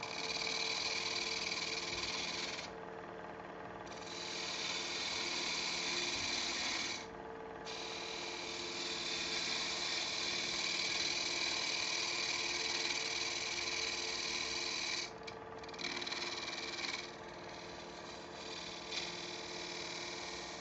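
A wood lathe spins a tall wooden kitchen container while a tool evens out its rim, giving a steady close whirring scrape with a few brief dips in intensity and no talk.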